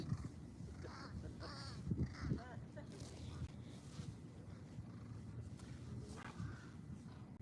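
Crows cawing around tidal fishing flats in the early morning, with pelicans and herons nearby. Several caws come through amid wind noise and people talking nearby.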